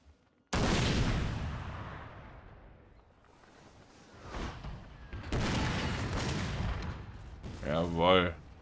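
Cannon fire in the video game Total War: Napoleon, with a loud booming blast followed by a long rumbling decay, then further heavy volleys, ending with a brief burst of distorted sound.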